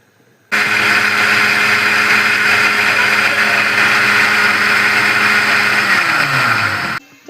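A kitchen blender whirs loud and steady for about six seconds while blending a smoothie with freshly squeezed lemon juice, then its motor winds down and cuts off, with no one speaking.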